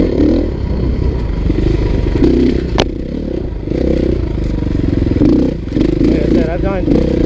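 A 2016 KTM 350 EXC-F four-stroke dirt bike works along single track, its engine droning steadily close by with clattering and scraping from the terrain, and someone talks over it throughout.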